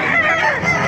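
Hodge Gray and White Brazil chickens at Baliwag's poultry market cluck and squawk briefly, close and loud within a busy background.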